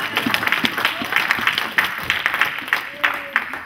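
A church congregation claps steadily, with irregular overlapping hand claps rising and falling in loudness, close and full throughout.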